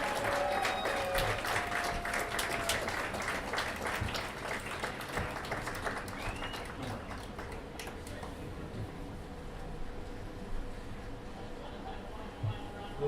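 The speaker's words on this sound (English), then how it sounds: "Let us have one final round of applause for our 8 seniors this year." A small crowd at a girls' high school soccer game claps for the eight seniors, faint and scattered, thinning out over several seconds and fading into quiet outdoor background.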